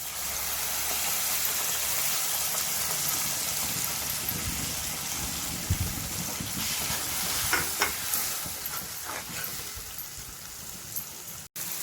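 Onion with ginger garlic paste frying for mushroom curry, a dense steady sizzle with scattered crackles and a few stirring scrapes near the end, no speech.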